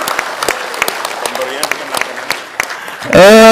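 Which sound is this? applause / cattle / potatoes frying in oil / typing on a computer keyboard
applause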